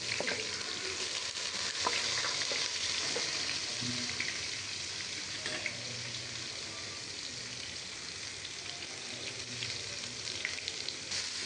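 Onion and chili fry in a pan for a fish roe bhuna, giving a steady close sizzle with occasional stirring scrapes throughout.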